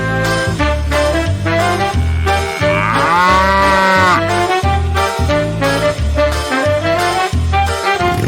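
Cow mooing loudly in long, drawn-out calls over several seconds, close and continuous, with no one talking.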